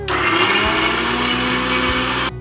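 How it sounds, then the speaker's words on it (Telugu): A kitchen mixer grinder grinds onions for mango pickle, a loud, steady motor whir running close up and continuously before cutting off at the end. "ఉల్లిపాయలకి మిక్సీ పట్టుకోవాలి"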